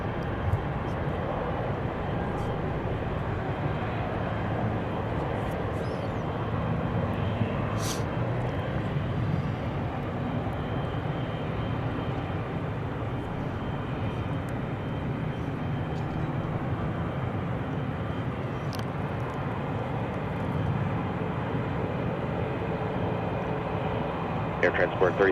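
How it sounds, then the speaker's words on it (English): FedEx Boeing 777 cargo jet at Seattle airport, a steady broadband engine roar and rumble that holds throughout while someone talks over it. "And there's our FedEx flight."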